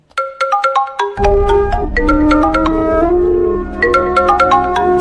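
A phone ringtone plays loudly as a bright, repeating melodic tone, a short run of notes followed by a sustained phrase, with no voices over it.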